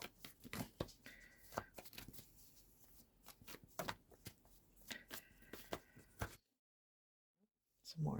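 Tarot cards shuffled by hand in a series of crisp riffles and slaps with quiet rustling between, close and fairly soft, stopping into a brief silence near the end.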